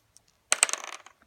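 Two dice rattle and clatter onto a hard surface during a multiplication practice lesson, a quick burst of sharp clicks lasting about half a second after a couple of faint taps.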